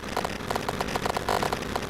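Glitchy vehicle engine noise in the City Driver video game, continuing after the engine was switched off: a steady, stuttering mechanical drone with rapid clattering pulses, moderately loud with no speech.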